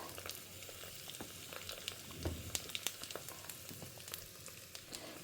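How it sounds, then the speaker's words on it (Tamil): Mustard seeds crackle and pop in hot oil along with fenugreek, turmeric and asafoetida in a tempering for mango pickle, a soft steady sizzle dotted with sharp scattered pops, heard alone. "கடுகு இப்போ பொரிய ரசத்தை கேட்க ஆரம்பிச்சிடுது"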